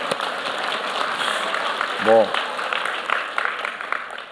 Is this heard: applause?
yes